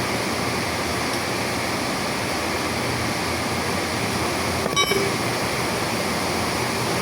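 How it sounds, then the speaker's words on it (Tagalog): Water rushes steadily from a freshly opened tap on a storage tank, a continuous, loud hiss with no pauses from start to finish and no voices. "Kasi nagbukas ako ng tubig dito sa tangke."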